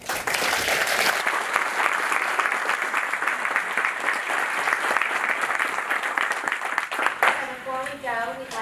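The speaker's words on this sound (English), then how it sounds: "Let's give them another round of applause." Audience applauds panelists at the close of a leadership panel event, steady dense clapping filling the room for several seconds, with a voice coming in over it near the end.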